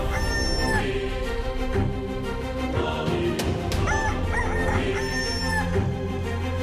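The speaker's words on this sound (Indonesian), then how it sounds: "lihat, ini ada ayam jantan dari timur" A rooster crows in a children's animated song about a swaying truck carrying farm and wild animals. Two drawn-out crows rise over continuous loud music with other animal effects.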